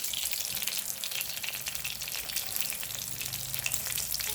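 Lumpiang Shanghai spring rolls fry in hot oil with a dense, continuous bright sizzle and crackle, close and steady throughout, with no voices.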